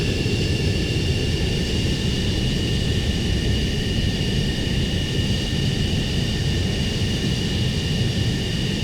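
A jet fighter coming in to land in the combat flight game Ace Combat 7, a loud, unbroken engine roar with a steady whine on top, holding level throughout with no voices.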